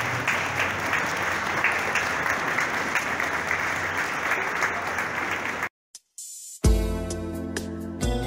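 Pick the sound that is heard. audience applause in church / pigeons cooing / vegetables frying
audience applause in church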